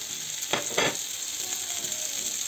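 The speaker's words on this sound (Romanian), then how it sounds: "Am să pun ardeii. Îi las pe ei să călească." Bell peppers added to softened onion sizzle in a pan, a steady broadband hiss with a couple of louder crackling bursts early on, close and moderately loud, no talking.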